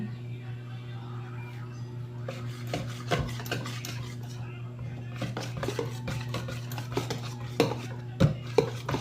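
A spoon scrapes and clinks around a bowl as flour batter for hotcakes is stirred, the irregular taps growing louder toward the end over a steady low hum.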